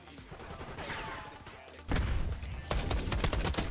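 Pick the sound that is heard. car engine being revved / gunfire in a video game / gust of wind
gunfire in a video game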